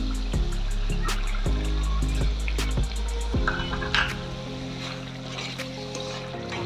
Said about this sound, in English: We have the oil coming out, and tomato is frying properly.